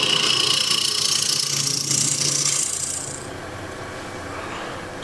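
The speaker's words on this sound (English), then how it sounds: "And now I can just finesse it a little bit with a scraper." A scraper rubs against a wooden tray spinning on a lathe, a loud close rasping scrape with a rising whine that stops after three seconds, leaving the quieter hum of the turning lathe.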